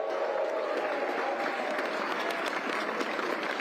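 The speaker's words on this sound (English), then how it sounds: "so let's clap for that" A crowd gathered in the village at Palisades Tahoe for the start of the 2023 Broken Arrow Skyrace, a Mountain Running World Cup event, claps steadily in an even, continuous wash of applause heard from a moderate distance.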